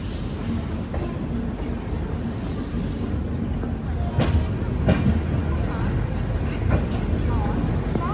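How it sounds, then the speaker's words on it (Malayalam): The Godavari Express rolls into Visakhapatnam Junction with a steady rumbling, rattling roar heard from on board, broken by a few sharp clanks, while a voice talks over it. "ട്രെയിൻ ഇതാ വിശാഖപട്ടണം ജംഗ്ഷൻ റെയിൽവേ സ്റ്റേഷനിലേക്ക് എത്തിക്കൊണ്ടിരിക്കുകയാണ്"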